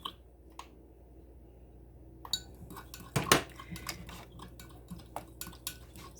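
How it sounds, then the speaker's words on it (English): Stirring melted soap base in a container for copper-colored melt and pour soap: a spoon scrapes and clinks against the sides in scattered taps, with one louder clatter midway, close up and with no talking. "So I'm going to keep stirring."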